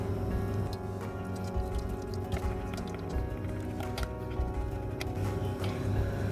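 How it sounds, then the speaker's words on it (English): Rice batter for papad strained in a kitchen, giving soft squishy dripping and wet ticking sounds over a steady background hum, close and fairly quiet. "we will just strain out this rice batter for our confirmation"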